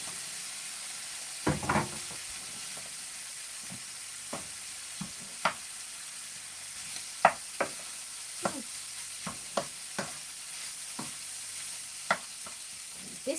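Rice being stir-fried with curry powder in a pan: a steady hiss of frying under irregular clacks and scrapes of a spatula, with a brief louder clatter early on.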